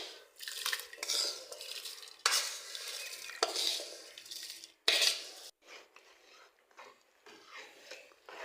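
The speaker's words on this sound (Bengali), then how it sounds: "চালগুলো দিয়ে ভালোভাবে একটু নেড়ে চেড়ে নেব।" Fried polao rice stirred into hot water in a rice cooker pot: close scraping and clattering strokes come in bursts with brief pauses, over a light sizzle.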